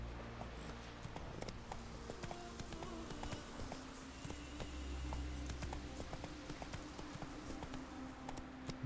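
Hooves of the horse Roach clip-clop steadily in Witcher 3, a continuous rhythmic trot over a low ambient game soundscape, with no talk.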